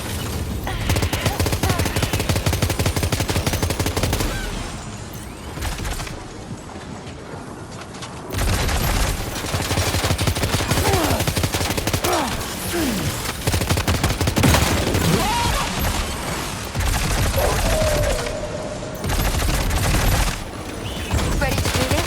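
Sustained heavy gunfire from Death Stranding 2, loud and dense, rattling almost continuously for over twenty seconds with only brief lulls, booming low end under the rapid bursts, and no voices over it.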